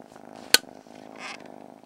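A cat purring close by, a low steady rumbling texture with a sharp click or tap partway through and a brief soft rustle later, no talk over it.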